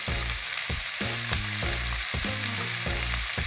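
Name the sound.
frying beans, capsicum and peas in a pan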